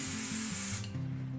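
Airbrush spraying thinned purple and white paint onto a Warhammer Sylvaneth Balewind Vortex model: a close, steady hiss cuts off abruptly, leaving a low mechanical hum.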